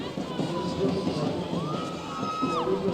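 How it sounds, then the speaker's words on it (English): Football supporters club cheering for Edo Queens at a home women's league match against Heartland Queens, a steady crowd roar with whistles and shouts, and talk over it. "You can see the supporters club cheering them on."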